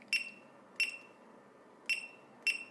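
Alarm on a Retekess TD108 calling system sounds four short, sharp electronic beeps at uneven intervals, thin and clear over faint background hiss, with no voices.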